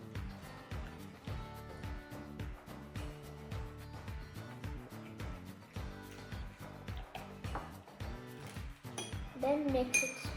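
Spoon stirring food coloring in a glass or dish, a fast steady run of close clinks and taps against the container, with a brief voice near the end.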